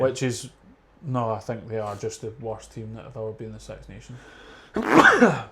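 A single sneeze bursts out near the end, loud and close, right after a stretch of animated talk about Six Nations rugby.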